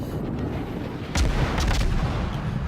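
Warship main guns firing in World of Warships during a ranked naval battle: a deep, heavy boom lands partway through over a constant low rumble of engine and sea noise, with no talk.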